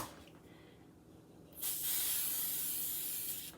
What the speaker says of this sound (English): Let's spray the top